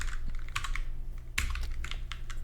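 Rapid clicking of computer keyboard keys, heard in two short bursts of quick typing separated by brief pauses, close and fairly quiet with no talking.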